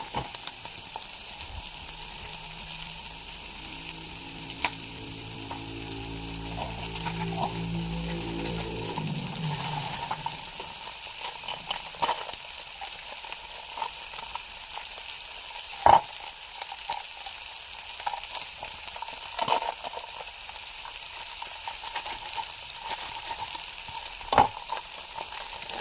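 Chicken chunks sauté in a pan, giving a steady, close sizzle with scattered clicks and scrapes from stirring, and a low hum in the first few seconds.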